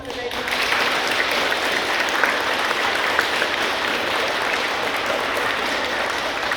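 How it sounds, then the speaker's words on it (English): A school audience applauds for the Vice Captain, a dense, steady wash of clapping from many hands that holds evenly loud for the whole stretch. "give our Vice Captain a round of applause"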